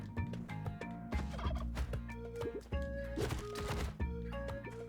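Turkeys gobble repeatedly in the video game Spelunky 2, a busy run of rapid warbling calls mixed with game music and effects, loud and continuous throughout.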